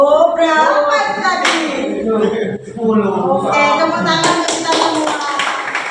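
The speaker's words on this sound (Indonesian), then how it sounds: "tepuk tangan untuk kita semua" A classroom group of children clapping hands together in a short burst, mixed with teacher and pupils talking over it.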